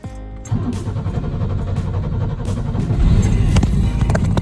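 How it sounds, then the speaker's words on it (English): A Ferrari kit car project engine fires up after a brief cranking start, then settles into a loud, rough, steady idle that builds slightly toward the end, with no talk. "All right, so I got the car fired up."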